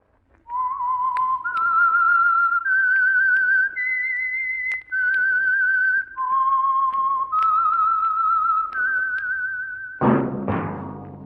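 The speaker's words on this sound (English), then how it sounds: "that whistle is your signal for the Signal Oil program, The Whistler" A clear whistled melody of sustained, sliding notes serves as the theme signal for the Signal Oil radio mystery program The Whistler, running steadily for about ten seconds before a burst of orchestral music cuts in.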